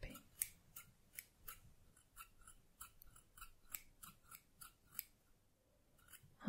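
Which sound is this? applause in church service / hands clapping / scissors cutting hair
scissors cutting hair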